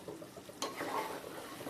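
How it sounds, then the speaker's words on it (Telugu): A spoon stirs chicken gongura curry with turmeric and lemon juice in a pan, a sharp scrape of utensil on metal followed by soft sizzling and shuffling, close and moderately loud without speech. "ఇప్పుడు కలపండి."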